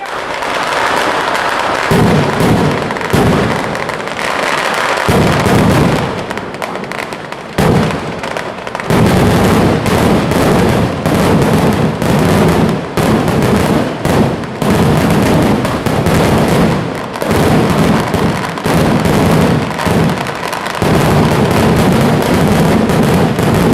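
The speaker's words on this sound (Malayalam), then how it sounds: "മേളവും സാമ്പിൾ വെടിക്കെട്ടും കാണുവാനായി ആയിരങ്ങൾ ഉത്രാളിക്കാവിലെത്തിയപ്പോൾ" A sample fireworks display at the Uthralikavu temple festival in Vadakkanchery, Kerala, fills the air with a dense, continuous barrage of loud bangs, cracks and rumbling bursts that runs without pause.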